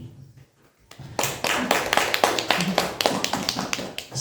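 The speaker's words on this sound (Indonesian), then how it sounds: "tepuk tangan untuk Ibu Ayu" Applause for Ibu Ayu at a school teachers' dissemination session, starting after a brief quiet and swelling into dense, steady clapping from a roomful of people.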